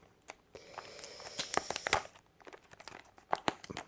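Plastic packaging around a set of fine-tip felt pens is torn and crinkled open by hand, close up, in short irregular bursts of tearing and crackling with brief pauses.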